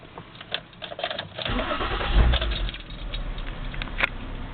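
A 2008 Ford Edge with a transmission problem starting up, the starter cranking briefly before the engine catches and settles into a steady idle, close and fairly loud.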